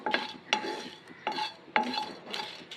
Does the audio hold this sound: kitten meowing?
no